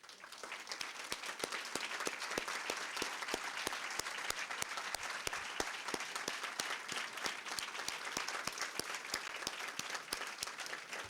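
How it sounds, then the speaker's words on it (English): Audience applause at a Wall of Distinction induction ceremony, a sustained, even patter of many hands clapping, heard from a little distance and continuing for the whole stretch. "please stand up and give these wonderful people a round of applause"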